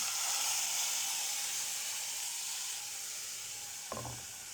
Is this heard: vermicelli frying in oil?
yes